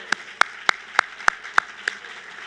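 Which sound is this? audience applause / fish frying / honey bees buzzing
audience applause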